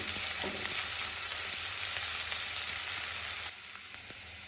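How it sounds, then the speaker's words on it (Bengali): Onions frying in a pan for a Kabuli chana masala, giving a steady, close, dense sizzle that continues without speech and softens slightly near the end. "একটু লাল লাল করে ভেজে নেব"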